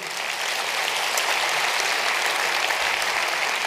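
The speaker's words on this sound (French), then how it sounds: "Merci Oliver, je crois qu'on peut encore l'applaudir." Audience applause at a French risk-management conference, a steady dense clapping that fills the room at full level throughout, with no talk over it.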